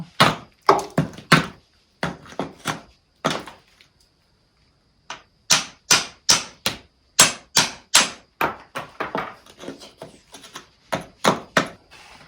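Repeated sharp hammer blows on a wall, struck in uneven bursts with a short pause midway, close and loud.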